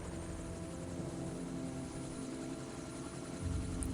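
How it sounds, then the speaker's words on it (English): A helicopter in the base-building video game Evil Genius gives off a steady, faint rotor drone with a continuous buzzing hum that holds for the whole stretch, and no one speaks over it. "I wonder what's coming out of this helicopter."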